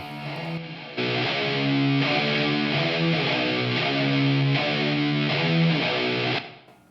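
A gritty, lo-fi distorted lead guitar riff plays steadily for several seconds in a song break, thick and fuzzy, then fades out at the end.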